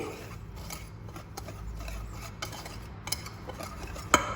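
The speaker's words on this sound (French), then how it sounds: "votre farine, vous mettez le sucre, vous remuez" A utensil stirs flour and sugar in a bowl for apple muffins, faint scraping and light clinks with a sharper tap near the end, quiet and close, no talk.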